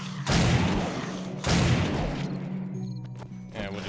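Two heavy shotgun blasts boom out about a second and a half apart in the 7 Days to Die video game, each with a long rumbling tail that fades into lighter clicks.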